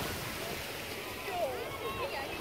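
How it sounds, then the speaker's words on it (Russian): Wind blowing steadily along a seaside beach in Spain, a constant broad rushing hiss with surf-like wash and faint distant voices in the background. "Еще ветер дует такой, знаете, ветерок"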